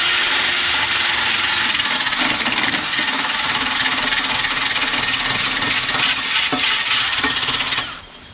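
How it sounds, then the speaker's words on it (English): Power drill fitted with an attachment, working on a Craftsman Briggs 5HP 14-inch rear-tine rototiller: a steady, loud, high whirring and grinding that runs almost the whole time and then cuts off abruptly near the end. "So I've got my drill with one of these things on it."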